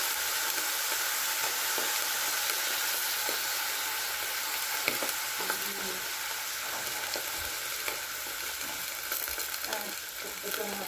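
Coconut milk poured into a hot pan of ginataang papaya, giving a steady close sizzle and bubbling with occasional stirring clatter and a voice in the background.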